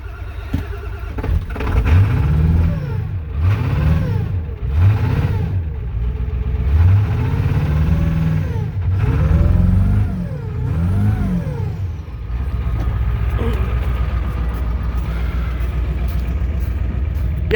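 An IDI diesel engine cold-starts and runs, cranking and then catching with several rising revs and a rough, clattering idle heard up close.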